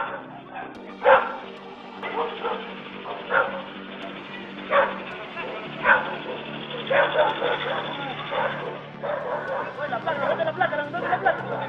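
A stray dog barks and yips repeatedly in sharp, uneven bursts during a confrontation with police, with crowd chatter and voices beneath it and a whimpering edge to some barks.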